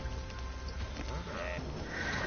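Donkeys bray in Trine 2, bleating cries rising faintly from a dense, constant bed of game background noise.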